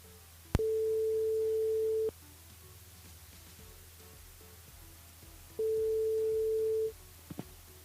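A telephone line tone plays twice while a radio host places a call to a listener: a steady electronic beep lasting about a second and a half, a pause, then a second shorter tone, with faint clicks around them.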